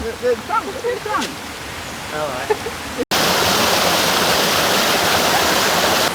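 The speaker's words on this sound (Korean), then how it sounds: "폭포가 아주 시원하게 물줄기를 쏟고 있습니다" A roaring waterfall in a Thai national park bursts in after a short pause, loud and steady, following a quieter stretch of outdoor ambience with voices.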